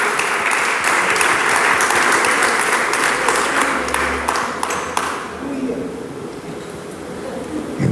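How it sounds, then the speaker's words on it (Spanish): A church congregation claps hands together during a worship service, a rapid rhythmic clapping under voices for about five seconds, then fading into quieter room sound with talk. "Dele palmas al Señor."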